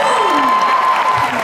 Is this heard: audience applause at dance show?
yes